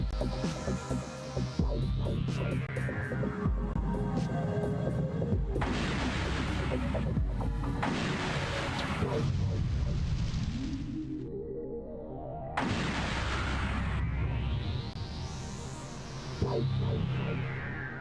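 Homing missiles launching and striking targets in the space combat game Darklight Conflict: sweeping electronic pitch glides, throbbing synthetic booms and dense blasts fill the scene continuously, loud and close, with no talking.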